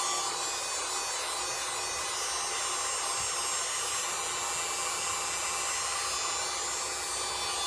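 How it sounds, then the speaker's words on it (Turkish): A small dust vacuum machine with a brush tip hums steadily up close while cleaning dust from the case of a Xiaomi Mi 6 phone during a screen replacement, an even motor whir with no talk. "Bu arada bu da toz çekme makinemiz. Fırça var ucunda."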